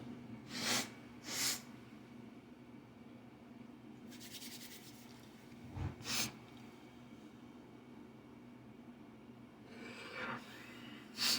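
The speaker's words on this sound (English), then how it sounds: "give me 1 second to blow my nose" Several short, breathy blasts of someone with allergies blowing their nose, with a few rubbing sounds between them, close and fairly quiet.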